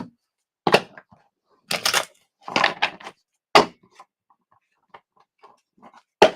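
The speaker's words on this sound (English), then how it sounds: "Let's shuffle. I got to shuffle for you." Tarot cards being shuffled by hand, heard as sharp dry riffling bursts and soft taps in an irregular rhythm, close and fairly loud, with quiet gaps between them.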